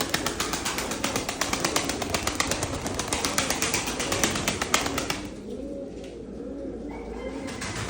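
Pigeons coo repeatedly in a loft of male and female birds, with busy rhythmic cooing and fluttering close by for about five seconds before it thins to quieter ambient background.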